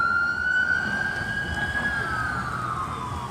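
An ambulance siren wails, sweeping steadily through its tone, loud and continuous over road rumble as the ambulance passes close by.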